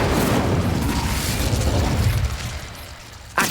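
The Incendio fire spell cast in the video game Hogwarts Legacy, a loud roaring burst of flame that rumbles and slowly fades, followed by a sharp pop at the end.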